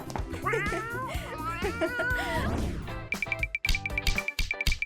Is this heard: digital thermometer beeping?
no